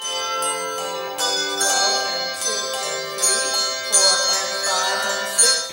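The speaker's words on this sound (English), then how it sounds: "this is the adult bell choir here" An adult handbell choir plays in church, with overlapping bright struck bells ringing a sustained, shimmering chordal passage and fresh strikes every second or so; close and full, with no voices.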